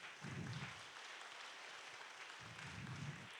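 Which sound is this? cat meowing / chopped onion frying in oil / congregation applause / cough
congregation applause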